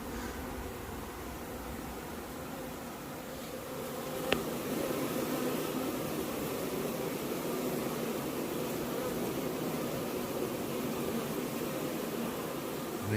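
Honeybees pouring out of the hive around the apiary on a humid day after rain, a dense continuous buzzing drone that fills the scene at steady loudness, with one brief click partway through.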